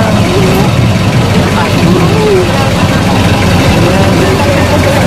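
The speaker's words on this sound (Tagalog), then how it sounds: "Nakaandar na itong makina niya eh." A boat's engine runs steadily as passengers crowd aboard a busy vessel, a continuous low rumble and drone filling the scene beneath constant chatter from people nearby.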